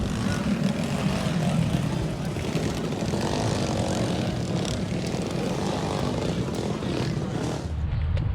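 Go-kart engines run hot laps at Hanford track, a steady loud engine drone holding the full stretch with no breaks, tailing off slightly near the end.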